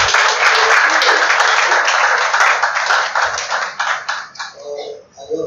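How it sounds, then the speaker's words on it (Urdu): A church congregation claps together to thank God, a loud, dense wave of applause that holds steady for several seconds before thinning out into scattered claps near the end. "ہم تالیاں بجا کے خدا کا شکر کرتے ہیں۔"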